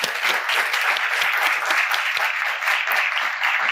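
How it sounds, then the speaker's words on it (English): Steady, dense applause from an audience in a conference room at an Internet Governance Forum session, close and even throughout. "big applause for."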